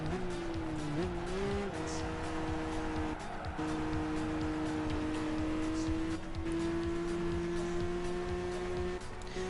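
Racing car engine in Gran Turismo 5 holding a steady, loud drone whose pitch shifts briefly with gear changes, with tire noise over it and no clear talk.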